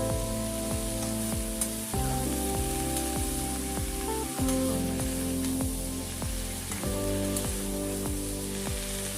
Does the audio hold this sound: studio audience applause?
no